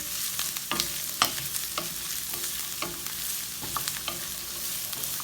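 Celery sizzles and fries in a pan for a Sicilian caponata, with steady frying hiss broken by repeated scraping stirs of a utensil.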